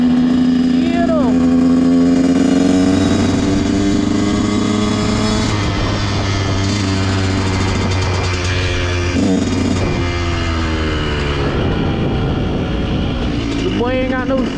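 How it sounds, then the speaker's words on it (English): A dirt bike engine revs and drones nearby with shifting pitch, steady and loud throughout, while people talk over it. "There's some boy making too much noise on a dirt bike."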